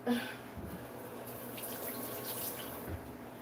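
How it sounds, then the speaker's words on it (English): Food is rinsed under a running kitchen tap, a soft, steady stream of water splashing continuously at low volume with no one talking. "let me rinse it"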